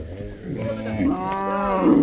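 Cattle mooing on a farm in Ethiopia's Raya region, long low calls rising and overlapping, close and fairly loud, with one drawn-out bellow stretching across and a second building toward the end.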